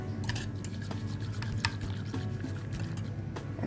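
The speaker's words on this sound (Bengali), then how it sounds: "দুধটার উপরে ফেনা ফেনা আসার জন্য এরকম কতক্ষণ নাড়লেই হয়ে যাবে" Milk mixed with yogurt starter being stirred in a pot to raise froth, a continuous soft sloshing and liquid swirl with faint scraping clicks, close and steady throughout, no talking.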